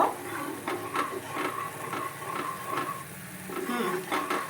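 Motichoor laddu mixture with melon seeds being stirred in a pan to firm it up, a rhythmic series of spatula scrapes and soft knocks over a low sizzle, close and moderate.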